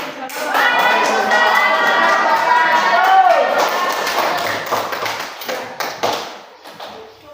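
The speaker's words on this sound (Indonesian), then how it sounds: "Berikan tepuk tangan ya." Scattered hand claps from a classroom audience break out after a group presentation, following a stretch of speech and then tapering off into light, uneven clapping near the end.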